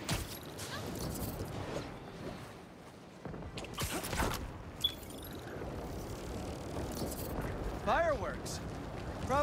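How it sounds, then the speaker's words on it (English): Fireworks crackle and thump in a New York street scene of the Marvel's Spider-Man 2 video game, a series of scattered bursts and pops, some sharp and loud, mixed with background city noise and a voice. "Fireworks? Probably without a permit."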